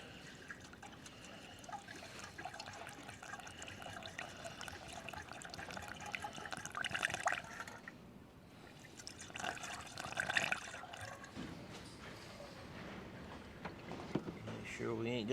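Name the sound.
water poured into radiator after antifreeze concentrate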